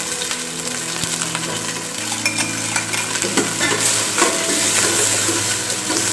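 Steady sizzling and frying of dried chilies in a pot, with scraping stirs and small clinks of ingredients hitting the hot surface throughout.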